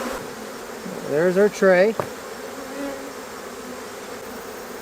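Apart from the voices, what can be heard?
honey bees buzzing around an open beehive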